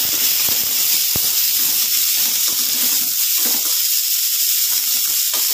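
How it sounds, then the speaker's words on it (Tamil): Chopped large onion sautéing in oil in a pan for a dry white pea masala, giving a steady dense sizzle and hiss throughout, loud and close, with faint scattered pops and no talk. "இது நல்லா வதங்கி வரட்டும்."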